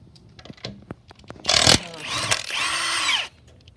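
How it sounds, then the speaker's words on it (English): A power tool spins off car lug nuts during a tire change, one loud buzzing burst followed by a longer steady whir, with faint clicks and handling noise before it. "we're gonna take the lug nuts in a diamond shape"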